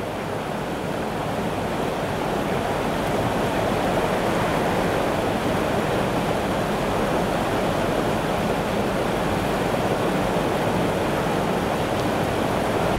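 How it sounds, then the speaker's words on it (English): River water pouring over a weir at Great Alne, a loud, steady broadband rush that holds constant throughout with no talking. "Love the sound of the water as well."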